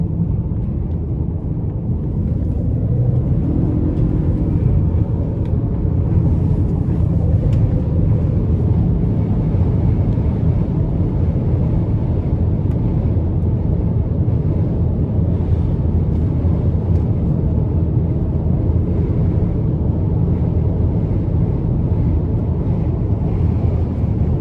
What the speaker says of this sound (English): It's a 2-liter turbocharged 4-cylinder, but still pretty nice power output.